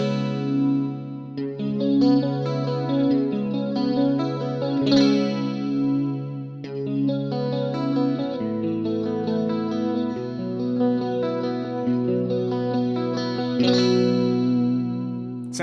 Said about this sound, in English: Sounds like single is doing the classic CE1 or JC120 style wet, dry chorus on there.